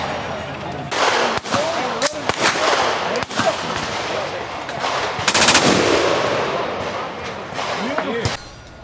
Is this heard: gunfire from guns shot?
yes